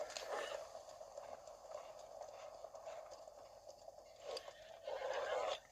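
A horse's hooves clip-clop steadily on the ground in Zelda Breath of the Wild, a quiet rhythmic patter under a soft, continuous game ambience.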